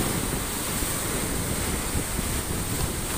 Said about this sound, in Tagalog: Ay, grabe ang alon, guys, no.